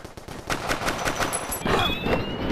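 Gunfire in the VR shooter Crisis VRigade on Oculus Quest, a fast burst of rapid shots rattling for a couple of seconds, loud and close, followed by denser overlapping game noise.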